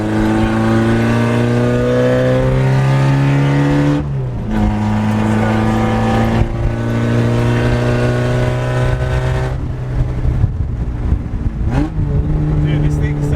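A Toyota AE86 engine drones loud and close while driving, holding steady revs with a clear dip and recovery like a gear change midway, the tone rich and continuous throughout.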